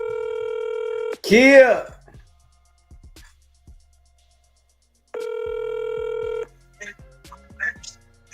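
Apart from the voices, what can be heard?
telephone ringing during a phone call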